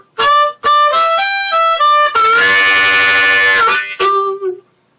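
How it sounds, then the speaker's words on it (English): Growling blues harmonica on a C harp, played on holes 3 and 4, gives a run of loud short blows and a longer buzzing held note, then a final stab, bright and close with no speech. "to do that growl that's on the Harmonica Blues harp demo video"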